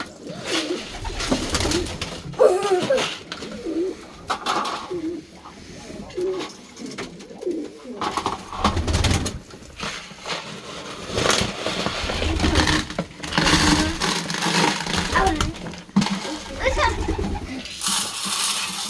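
Ornamental pigeons coo repeatedly through the whole stretch, soft throaty calls overlapping with rustling and occasional bumps, fairly close and steady, hungry birds awaiting feed.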